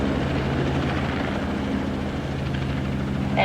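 A Robinson R44 helicopter taking off from a runway, a loud continuous rotor and engine roar close by with a steady low throb, sustained throughout with no talk.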